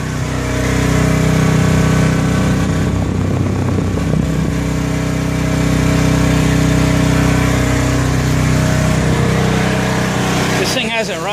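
A Honda 4000 watt portable generator runs with a loud, steady engine drone, its exhaust note holding constant throughout while someone talks over it.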